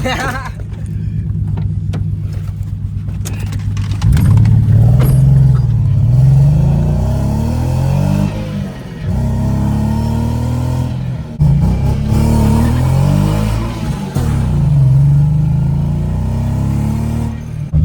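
A Nissan 370Z with a new clutch and differential pulls away on the street, engine droning and rising in repeated revving surges through several gear changes, loud and close from inside the car, with no talk.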